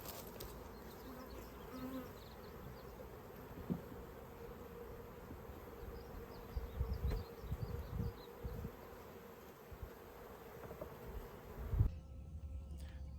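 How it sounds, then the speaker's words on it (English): Honey bees buzz during a transfer from a swarm trap into new hive boxes, a steady, close droning hum with individual bees passing near, plus a few low handling thumps and no speech. "getting the bees out of the swarm trap, put them in your new hive boxes"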